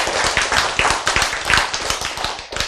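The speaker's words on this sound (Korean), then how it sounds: "박수가 좀 그래요. 시원찮아." A lecture audience claps in a dense, steady burst that sounds thin and half-hearted, the hand claps close and fairly loud, ending abruptly after a few seconds.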